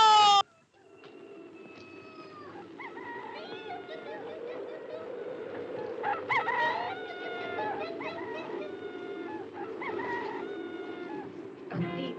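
Roosters crow in a 1964 Spanish-set period film, drawn-out calls overlapping from several birds at moderate distance after a brief loud cry at the start.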